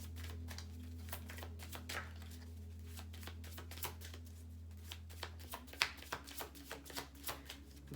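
Moonology oracle cards shuffled by hand, a quick irregular run of soft riffling flicks and taps, close and quiet over a low steady hum.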